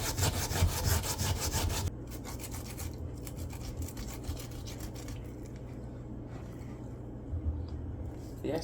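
Sweet potato and cocoa being grated by hand in a kitchen for sweet potato pudding, a steady rhythmic rasping scrape that starts loud and then continues more softly for several seconds.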